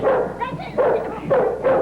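A dog in a 1939 film scene barks in a regular series of about four loud, close barks, with little else around them.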